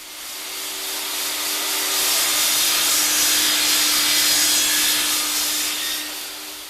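Table saw ripping a wooden frame member on edge, a steady loud whirring hiss with a faint motor hum underneath, building and holding through the cut, close and alone.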